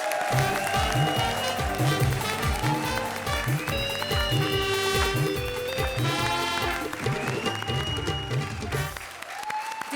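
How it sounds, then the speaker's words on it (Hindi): Loud, sustained audience applause at the Comedy Circus comedy show, dense clapping that fills the whole stretch, with music playing underneath and no talking. "जोरदार तालियां मनीष और राजीव के लिए, प्लीज"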